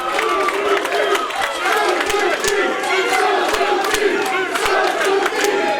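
A packed wrestling crowd at a live WrestleMax STL event roars and shouts in sustained disbelief after a powerbomb ends in only a two count, a dense continuous wall of voices with scattered sharp yells throughout.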